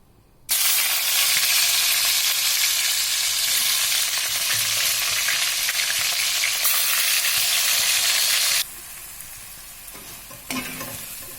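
Tomatoes fry in a pan for a Kannada ivy gourd chutney, a loud, steady broadband sizzle bursting in at once and running continuously before dropping off, with faint stirring scrapes near the end.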